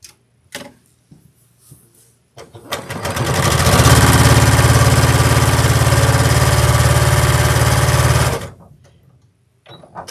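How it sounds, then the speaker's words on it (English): An electric sewing machine stitches a scrappy crazy quilt block, with a few light clicks of fabric handling before a loud, steady, close humming run of about five seconds that then stops abruptly. "So I'm going to sew from here to where this left off."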